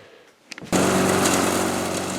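An old lawnmower at a backwoods cabin starts up after a few faint knocks, then runs loud and steady close by, its engine holding a harmonic drone with no one speaking.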